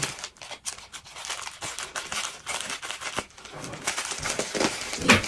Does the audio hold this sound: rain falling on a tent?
no